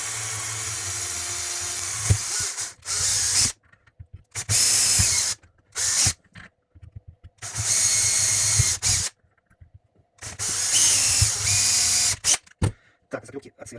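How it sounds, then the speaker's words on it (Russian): Cordless drill boring out the rivets of a car headlight bulb adapter, several loud high-pitched bursts of whirring drilling separated by short pauses, with brief mechanical clicks in between. "шуруповерт, и берем адаптер от первого и второго поколения и высверливаем заклепки"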